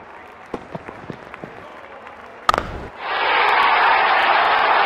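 Crowd in a Real Cricket 20 stadium erupting into loud, sustained cheering and applause after a six, rising suddenly from a quieter background of scattered bat-and-ball knocks and a sharp hit.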